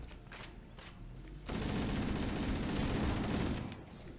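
Shotgun fire in the video game Halo: Combat Evolved, a booming blast that swells into a sustained roaring burst of gunfire, preceded by a few lighter pops and softer background noise.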